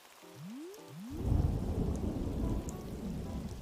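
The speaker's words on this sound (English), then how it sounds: "I love the thunderstorm sounds." A thunderstorm in the video game Animal Crossing: New Horizons, with a low rumble of thunder that swells and holds under a steady wash of rain, and no talking.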